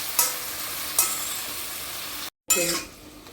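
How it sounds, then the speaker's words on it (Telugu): Brinjal is stirred into a mustard oil tempering in a pan, a steady sizzle under two sharp clinks of a metal spoon. After a brief dropout the stirring scrapes and the sizzling carry on. "మొత్తం ఆ పోపు అంతా దీనికి పట్టేటట్టు శుభ్రంగా కలుపుకోండి"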